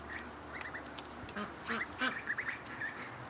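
Muscovy cross ducks quack in a yard, a run of soft nasal calls at moderate distance over low background noise.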